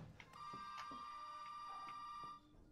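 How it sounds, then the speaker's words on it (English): A telephone rings with a continuous electronic trill in Resident Evil 7, fairly faint and steady for a couple of seconds against quiet game ambience. "The phone is ringing?"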